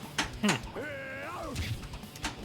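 A cat gives one drawn-out meow that rises and then falls, close and clear, with people talking quietly around it during a pinball stream.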